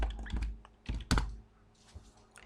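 Quick, light clicks of a computer keyboard as a command is typed on a Windows 10 PC: a few close, irregular key taps in short bursts, then softer scattered taps.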